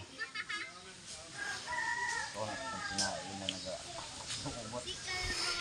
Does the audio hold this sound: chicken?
yes